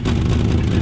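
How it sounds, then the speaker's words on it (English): BMW E30 engine with a bad exhaust leak running rough and loud, a brief burst of low, raspy chugging close by. "that is a gnarly exhaust leak"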